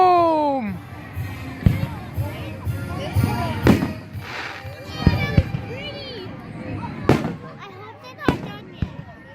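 Fireworks bursting over Morningside Park during an early Independence Day celebration, with a string of sharp, loud booms and crackles at irregular intervals while spectators exclaim and cheer nearby.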